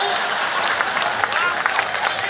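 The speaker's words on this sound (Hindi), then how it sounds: "देखो तालियां कमजोर है।" Audience clapping at a Hindi poetry recital, a dense, continuous patter of many hands that stays fairly even and moderate throughout, with crowd noise mixed in.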